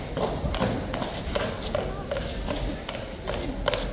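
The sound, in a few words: horses' hooves clip-clopping as mounted cavalry rides out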